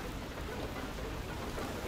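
Heavy hail pounding down in the video game FAR: Lone Sails, a dense, steady roar of impacts filling the whole stretch without pause or talk.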